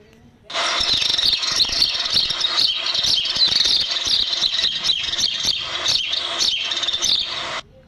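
Continuous busy chirping of house sparrows, a dense steady chatter of calls lasting several seconds, close and loud.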